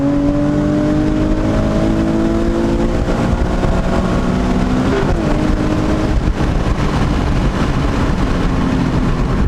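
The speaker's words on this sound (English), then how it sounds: "so Carl wants to just bang gears, and he wanted to get it on camera" A Nissan 370Z carrying a swapped Q60 engine revs hard through a run of gear changes, its pitch climbing in stepped sweeps and dropping at each shift, loud and close, with no voices over it.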